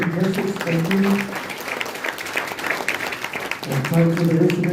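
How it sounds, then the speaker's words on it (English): Applause from attendees at a UN Committee on the Rights of the Child meeting in the Pacific, a moderate steady clapping that carries on under a speaking voice for most of the stretch. "A big hand of applause for the opening message."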